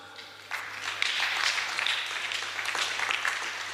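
A church congregation breaks into applause at a Sunday children's service, the clapping starting softly, then swelling into steady, moderately distant applause that keeps going.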